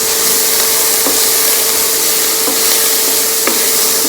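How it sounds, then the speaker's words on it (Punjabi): Cumin seeds sizzle and crackle in hot oil in a pan as a tadka for dry spiced potatoes, giving a loud, constant frying hiss with a few faint clicks of a utensil scattered through it. "ਲਓ ਜੀ ਆਪਣਾ ਤੜਕਾ ਭੁੱਜ ਰਿਹਾ ਹੈ"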